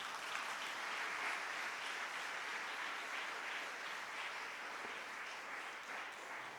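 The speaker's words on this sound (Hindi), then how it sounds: "तालियां बजाएं और उसको धन्यवाद दें।" A church congregation applauds after a Hindi sermon, the dense clapping steady and sustained throughout, filling the hall without speech.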